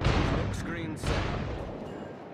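Naval gunfire in World of Warships: two or three booming cannon salvos from a ship's guns fire in quick succession, each with a sharp crack and rumbling low tail, moderately loud over a steady background roar.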